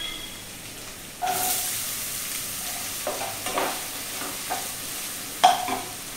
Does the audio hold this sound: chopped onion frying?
yes